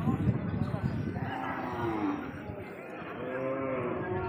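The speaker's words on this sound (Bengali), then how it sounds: "এই মাঠে আজকে কুরবানি উপলক্ষে গরুর হাট বসেছে" Cattle at a village Eid sacrifice cattle market in a field, with low moos and lowing rising out of a dense, steady crowd din; voices and chatter from people fill the background throughout.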